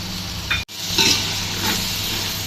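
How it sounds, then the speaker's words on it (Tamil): Yogurt dropped into tomatoes frying in a pan for chicken biryani and stirred in, giving a brief burst of loud sizzling with scraping stirs, close and without talk. "இப்போ நம்ம தயிர் ஆட் பண்ணிக்கலாம்."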